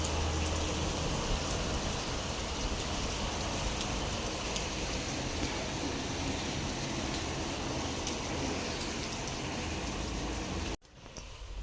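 Heavy rain pours down outside a home where water is pooling by the doorway. A loud, steady, unbroken hiss of drops beats on surfaces and cuts off abruptly at the end.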